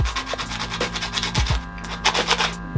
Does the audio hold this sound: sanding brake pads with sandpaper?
yes